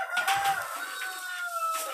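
Hens in a straw-covered coop let out a quick burst of clucks and drawn-out squawking calls, close and fairly loud, overlapping for a couple of seconds without any talking.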